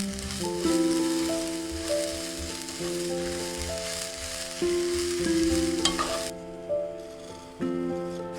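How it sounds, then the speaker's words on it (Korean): Washed perilla seeds roast in a hot frying pan over low heat, giving a steady close crackle and sizzle with scattered pops and stirring scrapes, and bright tones from music playing throughout. "들깨 볶는 소리가 정말 좋아요."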